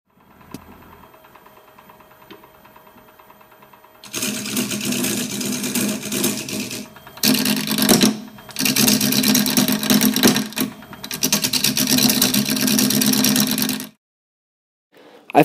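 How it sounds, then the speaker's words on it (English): A square carbide cutter shaves a segmented wooden bowl spinning on a lathe, making loud, steady scraping and whirring in several long bursts separated by brief pauses, with a quiet motor hum before the cutting begins and no talk. "I found the best way to do this was using my square carbide cutter, use the corner, and take off the material that way"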